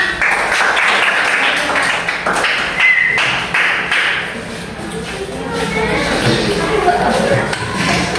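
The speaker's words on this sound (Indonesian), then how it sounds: "Tepuk tangan anak-anak." A classroom of children claps together in a dense, sustained patter of applause, steady for several seconds with a brief dip midway, mixed with taps and shuffling.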